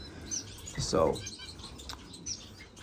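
Gouldian finches in a bird room give a few short, faint chirps and tweets, scattered over quiet background, while someone speaks briefly nearby.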